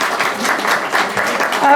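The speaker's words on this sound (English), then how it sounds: "Let's give Myra Francisco a big round of applause." Brief applause at a school board forum, a short burst of clapping from the audience mixed with voices talking over it.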